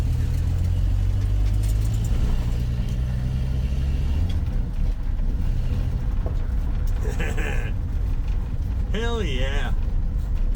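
A 1984 Dodge RAM D100 pickup truck rumbles along on its first drive in years, a steady low engine drone under a voice, with a brief squeal near the end.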